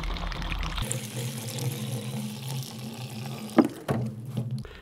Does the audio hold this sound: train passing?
no